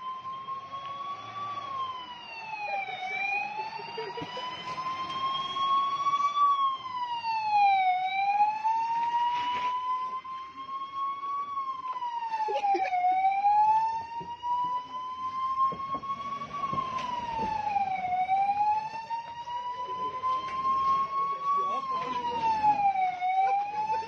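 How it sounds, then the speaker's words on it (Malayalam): An ambulance siren wails in a repeating rise-and-fall pattern for about 24 seconds, loud and continuous with strong harmonics, over faint traffic and background noise. "ആ അപകട നിലവിളിയുമായി നിമിഷങ്ങൾക്കുള്ളിൽ ആംബുലൻസ് സ്ഥലത്ത് റെഡി."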